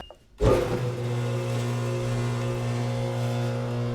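A commercial dough mixer kneading flour and water starts up after a moment of quiet, then settles into a loud, steady motor hum with a constant churning drone.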